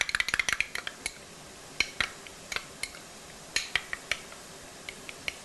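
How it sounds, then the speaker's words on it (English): A utensil stirs mayonnaise dipping sauce in a bowl, making a string of sharp clinks and taps. They come quickly at first, then at spaced intervals, close and clear with no talk. "Just simply mix that until all the mayonnaise is put together."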